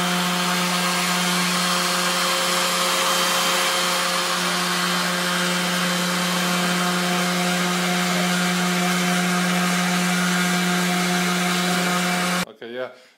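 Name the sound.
random orbital sander sanding wood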